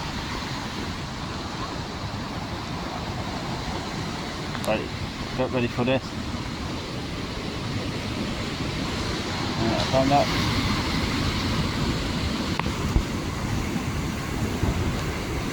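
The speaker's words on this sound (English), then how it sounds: "The sound of the ocean is amazing." Ocean surf surges and crashes against rock at the Ajuy caves on Fuerteventura in the Canary Islands, a constant heavy wash close by, with someone talking briefly over it.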